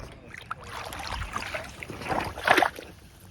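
Canoe setting off on Kiosk Lake in Algonquin, with soft paddle dips and water swirling near the boat, quiet apart from a slightly louder splash toward the end.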